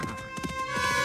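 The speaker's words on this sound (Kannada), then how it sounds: "ಅವನು ಕುದುರೆನ ರಿಮೋಟ್ ಇಂದ ಕಂಟ್ರೋಲ್ ಮಾಡ್ತಿದ್ದಾನೆ." A remote-controlled fake horse in an animated cartoon whinnies in a bright, sustained call over rapid, close hoof clops.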